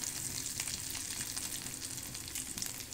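Garlic frying in oil in a pan for aval upma, a faint, steady crackling sizzle with tiny popping bursts, heard quietly and evenly throughout with no voices.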